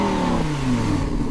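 Loud, sustained rev from the 5.2-liter V10 of a 2016 Lamborghini Huracán LP 580-2, its pitch sliding steadily downward as the engine note unwinds over a continuous mechanical roar.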